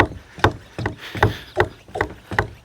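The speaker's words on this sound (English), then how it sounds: "Let's get this pumped up a little more." A cheap Harbor Freight hand pump pushes air in a steady rhythm of about seven firm, close strokes, each a short whooshing thump, while someone works on an abandoned 1968 Ford XL.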